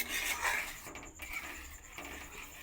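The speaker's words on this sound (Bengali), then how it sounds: "চিনিটা দিয়ে আর একটু নাড়িয়ে নেব যাতে চিনিটা গলে যায়" A spoon scrapes and rubs around a pot while sugar is stirred into Bengali payesh rice pudding until it melts, a soft, close scraping that stays quiet.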